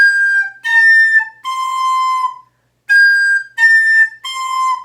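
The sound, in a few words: recorder blown too hard, shrill whistling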